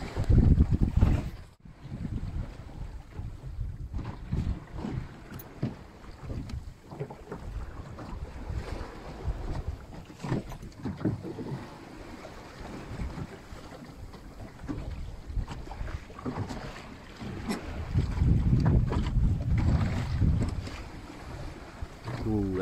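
A Mirror dinghy sails through summer waves off SE England, with steady wind buffeting the microphone, water rushing and slapping the hull, and gusty surges building louder toward the end.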